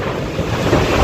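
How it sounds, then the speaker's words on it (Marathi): Heavy rain driven by strong wind makes a dense, steady roar with gusting buffets against the microphone, loud and close throughout the short stretch, with no voices. "खूप जास्त जोरात पाऊस आहे"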